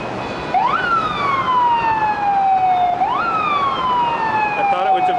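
Emergency vehicle sirens, ambulance and police, wail along Broadway in New York, two long rising-and-falling sweeps sounding loud and fairly close over steady street noise.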